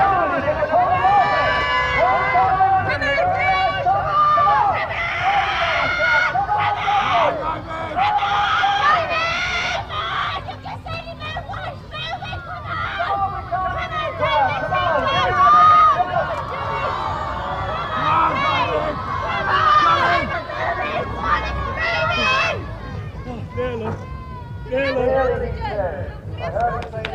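A large outdoor crowd cheers and shouts at an air show marking the Avro Vulcan XH558 RAF bomber's farewell flight, sustained babble and scattered yells filling the whole stretch, with people talking throughout.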